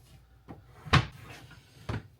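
A pajama drawer is pulled open, giving several wooden knocks and slides: a soft bump, a sharp louder clack, then another firm thud, close and without talk.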